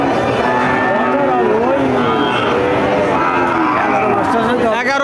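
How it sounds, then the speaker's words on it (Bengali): At a cattle market, a Sindhi breed cow lets out long, loud moos close by, rising and falling over a busy crowd with people talking throughout. "এই যে একটা গরু সিন্ধি জাতের গরু"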